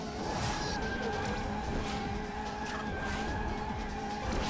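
Drifting car with squealing tires in the Sonic & All Stars Racing Transformed racing game, a steady loud engine roar with high tire screech running throughout, no talking.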